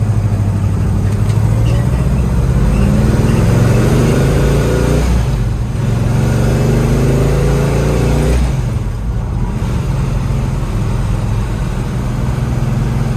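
Engine of a 1970 Chevrolet Chevelle revs up through the gears on the road, loud and close, climbing in pitch with each gear, dropping briefly at two shifts, then easing to a steady drone.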